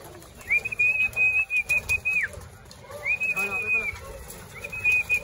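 Pet pigeons at a box perch making repeated bursts of wing flapping and soft cooing, with a drawn-out whistling tone recurring three times and someone talking over them.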